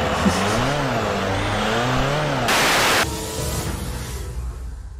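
A racing car engine in a car-building video game, a British police car, revs up and down with rising and falling whine, then a hissing burst of noise before fading out.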